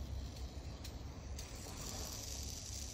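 Teak Tuning fingerboard wheels spinning freely after being tightened, a steady low whirring rumble with faint ratcheting clicks, continuous and close for the whole stretch with no talking.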